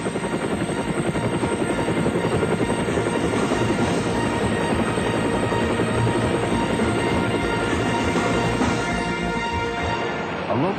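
A rescue helicopter flies close and loud for the whole stretch, its steady rotor chop and turbine roar constant, no talk over it.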